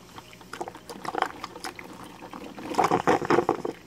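A coffee pot brews Black Rifle CAF coffee with a gurgling, bubbling trickle. Bursts of liquid sputter close by, and the sound swells louder near the end.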